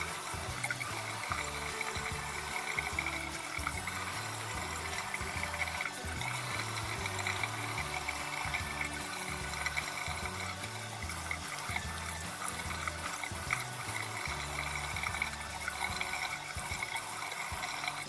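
Water splashes steadily as wet hands wash and massage a face, with close, continuous trickling and sloshing that carries on with no talking.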